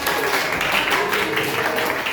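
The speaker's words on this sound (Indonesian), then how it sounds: "Oke, tepuk tangan buat kalian semuanya." Applause from a school audience of students during a guidance session, dense and steady clapping held at an even level for about two seconds.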